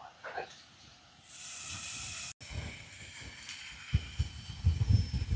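Steady wet hissing and sizzling from wet firewood in a campfire by a lake, with a soft crackle and low rumbling gusts of wind building toward the end.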